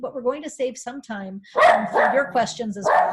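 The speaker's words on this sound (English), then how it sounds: "Excuse my dog in the background." A dog barks in the background during an online panel talk, several quick barks and yips mixed under and between a woman's speech.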